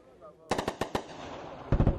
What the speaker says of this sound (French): Les canons tonnent à nouveau dans le Nord Kivu.